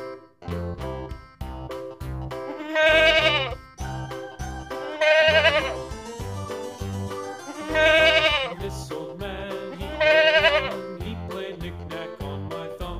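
Several wavering, high-pitched bleats from a young goat in a Bengali children's alphabet song, repeating at regular intervals over a steady musical backing.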